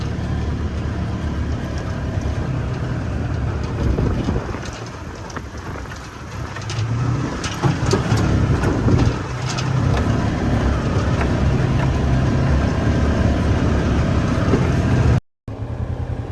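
Polaris Ranger UTV engine running while driving, a steady low rumble with rattling and road noise throughout, close and fairly loud, cutting out briefly near the end.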